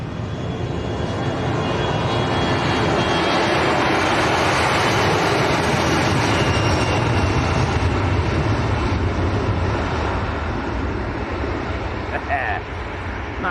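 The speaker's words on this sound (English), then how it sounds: "here goes Jet 2 to Malaga, on the roll" A Jet2 airliner bound for Malaga starts its takeoff roll with a loud, continuous broadband engine roar that holds steady throughout, heard from a distance across the airfield.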